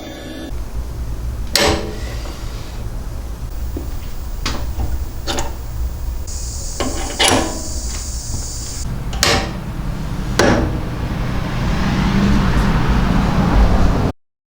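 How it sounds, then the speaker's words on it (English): A centering drill bit cuts a support hole into metal bar stock on a lathe, a steady machine hum broken by sharp ticks and clicks, a brief high whine midway, fairly close before stopping abruptly. "Here I use a centering drill bit to put a support hole in the stock."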